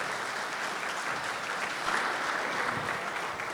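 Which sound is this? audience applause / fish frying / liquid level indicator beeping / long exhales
audience applause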